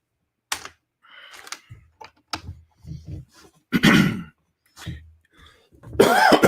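A person coughs several times in separate, irregular bursts with quiet gaps between. The final coughs are the loudest and harshest.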